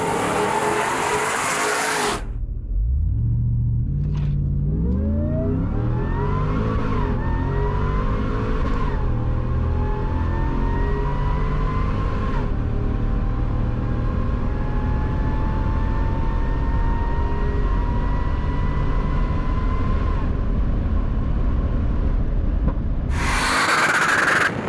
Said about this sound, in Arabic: شفت التسارع؟ صوت الطرب خيالي صراحة بهذا الموتر